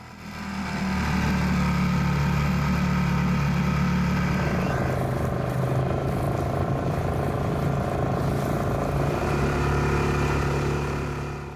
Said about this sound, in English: The 6 horsepower Yamaha 4-stroke started second pull and was soon warming up nicely.